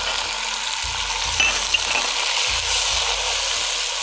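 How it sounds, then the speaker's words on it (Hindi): Chicken sizzles and fries steadily in a hot pan, a dense continuous crackle with occasional louder pops and a stir partway through, close and loud with no talking. "ये हमारी चिकन फ्राई हो रही है।"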